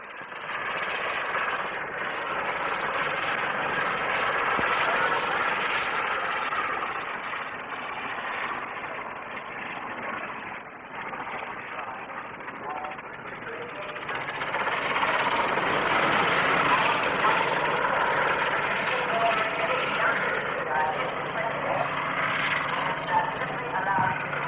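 An ultra-light helicopter with rotor-tip jets flies a display at the 1958 Farnborough air show, its engine a steady, fairly loud droning roar that swells and fades slightly as it passes. The recording is old and band-limited.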